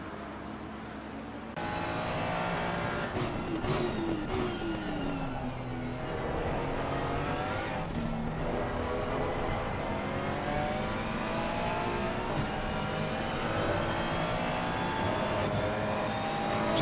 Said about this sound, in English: The cars driven in anger, it's quite a lovely sound indeed